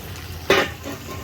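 Chicken pieces dropped into bubbling hot olive oil in a pan, a sudden loud hiss and sizzle that bursts up, then settles into a quieter crackling fry.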